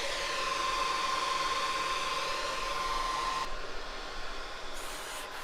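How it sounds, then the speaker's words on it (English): Steady close hissing and buzzing from welding on a limousine body, constant for several seconds before stopping abruptly, leaving a softer hum. "Now I just gotta weld it."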